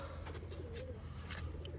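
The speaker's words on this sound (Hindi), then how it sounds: "बड़े खोपड़े बड़े चेहरे मोहरे वाले कबूतर," Large-headed fancy pigeons coo together in a dense, steady murmur close by, with a few brighter chirps rising over a continuous low hum.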